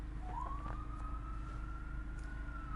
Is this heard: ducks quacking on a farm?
no